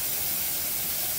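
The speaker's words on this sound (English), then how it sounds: "If you can hear that hissing, that is the 10 minutes of steam that we need to do." A home pressure canner, loaded with home-canned macaroni and cheese, vents steam before its weight goes on, giving a constant, even hiss from close by with no talking.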